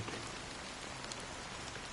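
Rain in the video game Honkai: Star Rail, a soft, continuous wash of falling drops pattering on surfaces, quiet and unbroken with no voices.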